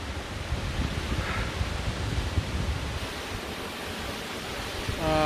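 The Krimml waterfall in Austria, a steady broadband roar of falling water filling the whole stretch, constant and fairly loud with no clear voices.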